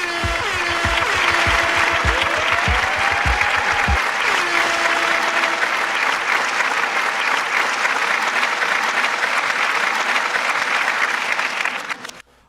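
A crowd applauds for a rapper with loud continuous clapping that runs for several seconds and then cuts off. A short tonal sound is heard early on.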